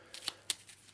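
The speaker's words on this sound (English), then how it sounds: "So we'll just give it a quick shuffle." A deck of cards for the board game Arkham Horror: The Dunwich Horror is given a quick shuffle, making a few soft, close riffling bursts in a quiet room with no talking.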